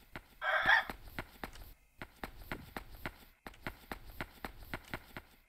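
In Yomawari: Night Alone, a chicken gives one quick, fairly loud cluck near the start, after which only a steady train of light footsteps continues beneath a faint, dark ambient drone.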